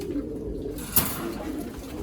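Pigeons in a loft coo softly and nearby in low murmuring calls, with one sharp click or flutter in the middle.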